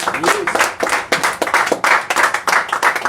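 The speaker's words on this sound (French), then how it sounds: "Laisse-moi applaudir Jésus ce matin à l'église" Church congregation claps during a Sunday morning service, rhythmic and close, with voices mixed into the clapping throughout.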